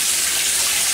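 Water running from a tap, a steady hissing gush filling the whole moment, close and fairly loud with no voices.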